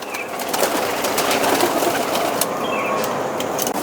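Pigeons in flight and around a loft, soft cooing and wing flutters over a steady outdoor hiss, fairly close and continuous with no talk.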